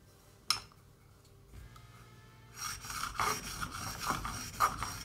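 A knife blade is stroked across a Japanese sharpening stone, making a soft, rhythmic rasping scrape that starts after a quiet stretch and a single sharp tap, faint and close.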